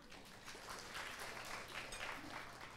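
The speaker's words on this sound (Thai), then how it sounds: "ขอเสียงปรบมือต้อนรับคุณ AJ ด้วยค่ะ" Seminar audience at an investment fund launch event applauding a speaker taking the stage, a steady wash of many hands clapping throughout, moderately distant and without speech over it.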